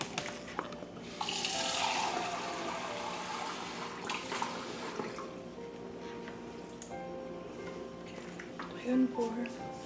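One cup of water is poured into a pressure cooker pot, a splashing, trickling pour heard through kitchen clatter, with a few metallic knocks near the end.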